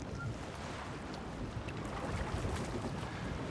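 Steady wind and rushing water around a merchant sailing ship at sea, a continuous broadband wash with gentle swells in intensity and no speech.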